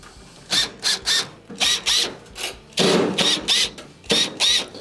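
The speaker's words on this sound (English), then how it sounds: "To remove the top panel, you must go around the perimeter and remove the Phillips screws that are holding it on." A power screwdriver backs Phillips screws out of the top panel of a Whirlpool stove, giving a string of short whirring bursts in quick succession, close and fairly loud with brief pauses between them.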